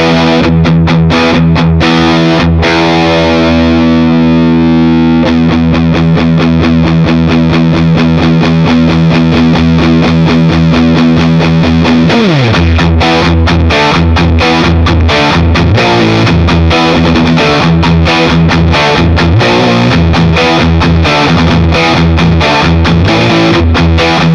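Electric guitar played through a TC Electronic Dark Matter distortion pedal, bridge pickup with gain turned up, grinding out loud, dense distorted chords and riffing that run continuously with no talking.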